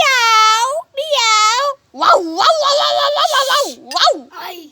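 A child imitates a cat's meow with several drawn-out, wavering meows separated by short pauses, loud and close.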